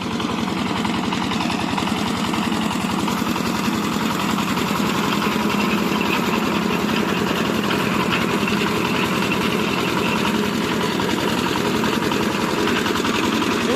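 A diesel branch chipper idles nearby with a steady, loud low rumble and a fast even chug that runs without a break.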